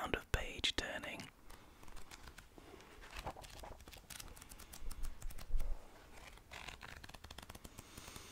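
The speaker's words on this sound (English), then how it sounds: "Sound of page turning." Close, soft papery rustling and quick flicks of pages turning, with scattered light clicks in a quiet room.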